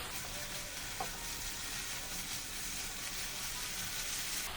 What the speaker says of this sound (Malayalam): ഒരു രണ്ട് മിനിറ്റ് ഒരു മീഡിയം ഫ്ലെയിമിൽ ഒന്നതുപോലെ ഇളക്കി കൊടുക്കാം